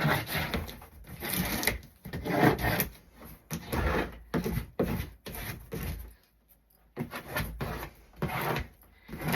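Packing tape being smoothed down along the sides of a cardboard shipping box, heard as bursts of dry rubbing and scraping strokes with short pauses between them.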